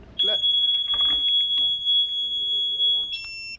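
Ninebot electric scooter's anti-theft alarm ringing, a loud steady high-pitched electronic tone with warbling beeps, sounding for several seconds before changing pitch near the end.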